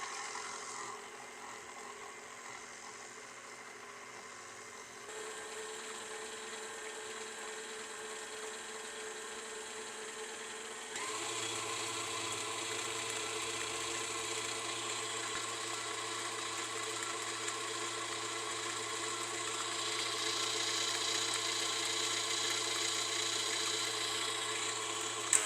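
Electric mixer beating sugar cookie dough with vanilla and almond extracts in a bowl, a steady whirring motor hum that shifts up in pitch and intensity partway through, continuous and close with no talking.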